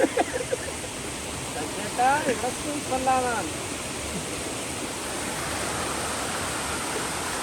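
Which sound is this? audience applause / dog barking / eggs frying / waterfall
waterfall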